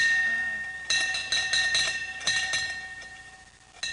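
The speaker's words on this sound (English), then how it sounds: "When that bell starts ringing" A bell rings in an office at a regional information technology firm, several bright clinking, chiming strikes in bursts over busy room noise, with faint voices in the background.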